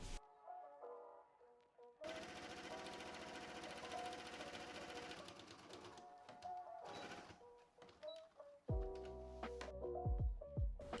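A sewing machine stitches a purple strip into the seam of a Princess Bubblegum costume skirt in rapid, steady mechanical bursts, with brief pauses and fabric handling between runs; it is close and clear, with no talk.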